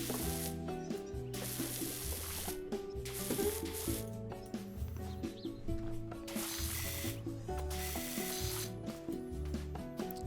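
In the Powerwash Simulator video game, a pressure washer sprays stone cleaner with a continuous hiss and sizzle, heard under looping background music.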